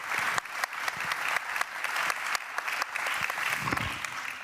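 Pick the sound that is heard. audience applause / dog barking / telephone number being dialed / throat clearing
audience applause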